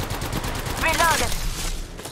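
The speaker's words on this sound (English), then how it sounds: "I'm taking the shot." Rapid gunfire from a weapon in Apex Legends crackles in a quick burst of close, loud shots, with a brief voice heard partway through.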